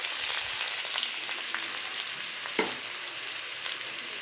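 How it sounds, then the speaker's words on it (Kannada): Onions and green chilies frying in hot oil for egg bhurji give a steady, close sizzle with a few brief clinks and scrapes from stirring, and nobody speaks. "ಈರುಳ್ಳಿನ ಚೆನ್ನಾಗೆ ಫ್ರೈ ಮಾಡ್ಕೊಂಬಿಡೋಣ"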